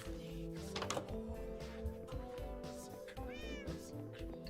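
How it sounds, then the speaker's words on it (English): Meows from a cat in Minecraft, several short rising cries spread across a few seconds over quiet game ambience and faint clicking, fairly soft, with no talking. "I can hear purring, but I cannot see the cat."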